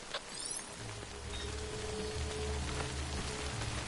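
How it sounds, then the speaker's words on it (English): Rain falls steadily across open terrain in the game Death Stranding, a dense, even patter of drops on the ground with a low rumble underneath that holds throughout. "Good thing it was raining."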